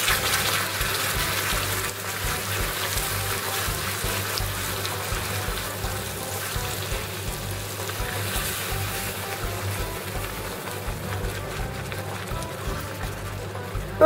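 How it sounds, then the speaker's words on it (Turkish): A packet of cream is poured into hot homemade caramel that already holds a spoonful of butter, for a caramel chocolate cake. A loud, steady, rushing hiss and bubbling fill the whole stretch without a break. "Arkasından da hemen bir paket kremamı ekledim."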